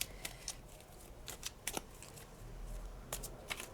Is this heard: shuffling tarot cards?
yes